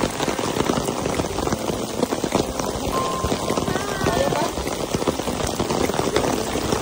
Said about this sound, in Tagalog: Super lakas ng ulan ngayon dito